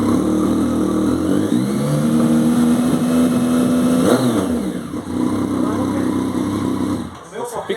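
Yamaha MT Tracer motorcycle engine roaring loudly at close range, a steady throaty drone with rising and falling revs, the tone sweeping through a pass around the middle before settling, with a brief clatter near the end.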